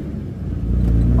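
An old truck runs along the road, its engine a loud, close, low rumble that swells slightly over a brief moment while a voice talks over it.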